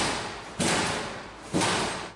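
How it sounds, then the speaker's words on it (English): Two heavy door slams land about a second apart, each a sudden broadband bang that fades slowly into a roomy indoor echo. "You could tell from the way that the door was slammed."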